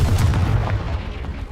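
Confringo fire spell explosion in the Hogwarts Legacy video game, a single loud, deep booming blast that rumbles on and slowly fades.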